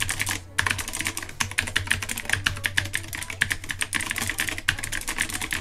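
Fast typing on an AJAZZ RGB mechanical keyboard with blue-type clicky switches, a dense stream of sharp, close keystroke clicks with a brief pause near the start and another near the end.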